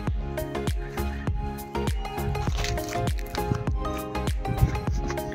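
Water squishes and splashes in a steady rhythm, close and loud, as a village hand pump near a cricket ground is worked and the flow gushes out in repeated surges.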